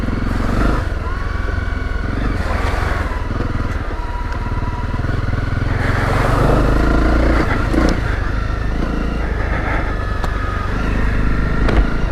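A Honda CRF250 Rally motorcycle rides off road, its engine droning loud and steady throughout with surges of revving and crackling, plus clattering from the bike over rough ground, close to the rider.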